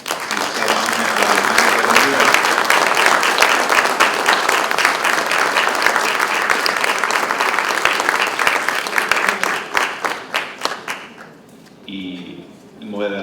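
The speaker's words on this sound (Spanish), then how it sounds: "un aplauso para" Sustained audience applause at a panel discussion on independence, a loud dense wash of clapping that thins and fades near the end before a voice speaks.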